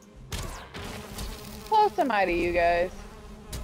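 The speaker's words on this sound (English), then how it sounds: "Yeah, I was like, what's that humming noise?" Bees humming at a beehive in the video game Valheim, a buzzing drone that swells for about a second in the middle, heard beneath a player's voice talking.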